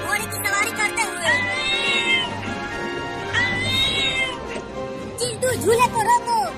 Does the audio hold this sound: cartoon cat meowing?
yes